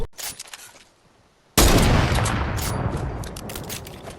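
Fortnite gunfire: a few sharp shots early on, then a sudden loud burst of rapid fire and blasts that rolls on densely before trailing off into scattered reports.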